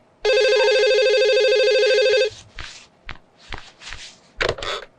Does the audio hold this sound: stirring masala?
no